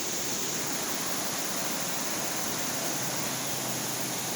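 Three waterfalls together make a steady, broadband rushing roar of falling water, constant and even throughout with no voices.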